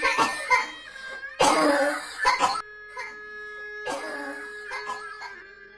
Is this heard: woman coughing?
yes